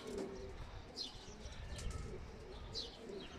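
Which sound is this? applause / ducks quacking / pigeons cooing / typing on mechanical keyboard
pigeons cooing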